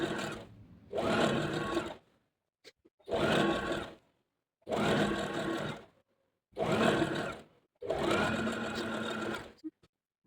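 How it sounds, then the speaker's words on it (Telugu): A sewing machine stitches the sleeves of a top in five fairly close, steady bursts of a few seconds each, its rapid whirring needle rhythm separated by short quiet pauses, with no voices. "తర్వాత హ్యాండ్స్ అనేవి స్టిచ్ చేస్తున్నాను."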